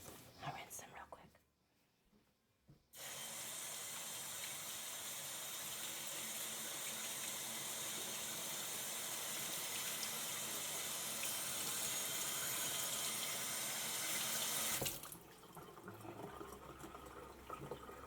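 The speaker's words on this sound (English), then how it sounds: "I'll rinse them real quick." Water from a kitchen tap gushes steadily for about twelve seconds while a handful of ingredients are rinsed. A soft whispering voice is heard before and after the flow.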